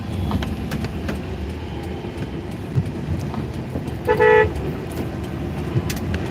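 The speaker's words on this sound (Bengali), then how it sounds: "একটা হর্ন দিবেন হর্ন দেওয়ার পরে আস্তে করে ঘুরাবেন" Car horn honked once before a U-turn on a road, a short clear toot over steady traffic and engine noise in rainy weather.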